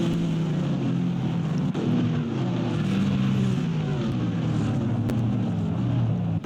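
Race cars in a GT Challenge event on the IMS road course roar steadily with a droning engine note, wind buffeting over the sound.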